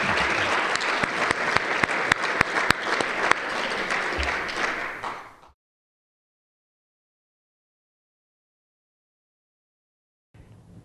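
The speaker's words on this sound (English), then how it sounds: "give a round of applause for Congressman Capps and her dedication" An awards-ceremony audience gives a sustained round of applause honoring a congresswoman, dense clapping with a few sharp individual claps that fades out, then silence, before faint sound returns at the end.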